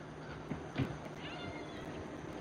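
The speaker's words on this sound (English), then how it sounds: "Come on out of there, kitty cat." A domestic cat gives a couple of faint, brief meows at a farm with longhorn cattle and horses, set against quiet outdoor ambience.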